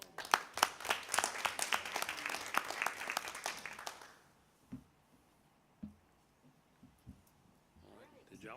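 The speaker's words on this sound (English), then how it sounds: "Let's give them a round of applause." Applause at a school board meeting, a room of people clapping briskly for about four seconds before it cuts off, followed by quiet with scattered faint knocks and rustles.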